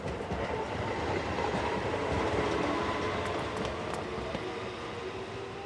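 An express train in an animated detective series rushes past on its way to the terminus, a steady, loud rumble of wheels and carriages with faint clicks and squeals over the rails and no voices.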